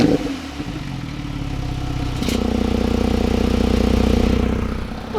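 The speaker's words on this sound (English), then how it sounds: "Warm start up for a 2018 Porsche 911 Turbo." A 2018 Porsche 911 Turbo starts up warm. There is a brief crank, then the engine catches loudly just after two seconds and settles into a steady, throbbing idle that swells slightly.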